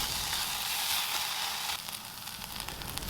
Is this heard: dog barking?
no